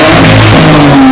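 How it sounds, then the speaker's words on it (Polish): A BMW E34 M5 with a swapped turbo engine revs through its exhaust in one brief, very loud and close burst with a deep rumbling note. "Zademonstruję tutaj wydech BM-ki, jaka powinna być."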